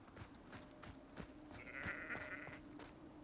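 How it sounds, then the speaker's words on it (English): Sheep in the Hogwarts video game, a single bleat rising out of a quiet game soundscape with soft footsteps and faint ambient tones, heard alone without talk. "Hey, sheep."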